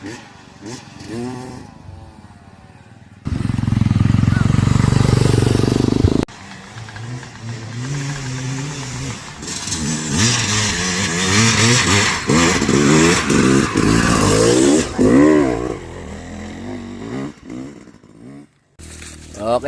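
A dirt bike, a Yamaha YZ, revs loudly in bursts, with a sustained roar in the middle and rising and falling engine pitch throughout, mixed with voices talking over it.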